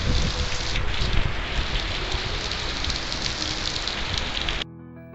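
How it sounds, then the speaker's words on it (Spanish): Heavy rain pours down at night in a wind-driven storm, a loud, dense, steady hiss of drops on surfaces that cuts off abruptly near the end. "esta lluvia que era bastante fuerte, como se aprecia"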